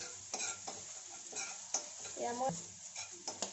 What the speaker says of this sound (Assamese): ইয়াতে মই অকণমান ঘিউ দিছোঁ আৰু অলপমান ৰেড চিলি পাউডাৰ দিছোঁ। এইখিনি মই ভালদৰে ভাজি লৈছোঁ।